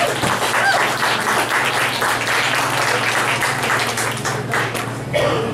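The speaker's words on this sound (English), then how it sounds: "raise your hand, because we want to applaud you for being here" At a La Raza Historical Society reception, an audience applauds family members of Maria Moreno, sustained dense clapping over a low steady hum, with scattered voices mixed in.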